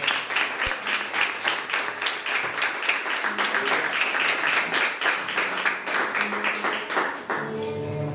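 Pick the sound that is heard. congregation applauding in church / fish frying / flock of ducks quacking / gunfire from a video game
congregation applauding in church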